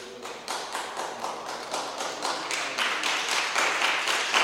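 Congregation applauding inside a church, a dense and steady wash of many hands clapping that grows slightly louder and fuller toward the end, with no voices over it.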